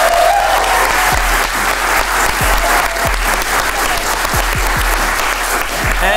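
Live audience at a gaming wrap-up show at Games Week, clapping loudly and steadily in dense, sustained applause with no pauses.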